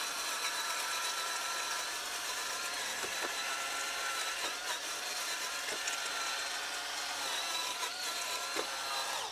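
Brushless cordless electric tiller, 600 watts with 48 tines, churning soil to dig out a patio area, a steady high-pitched motor whine with faint scraping and thuds of the tines biting into dirt, continuous and close.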